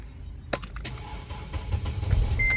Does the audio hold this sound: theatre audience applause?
no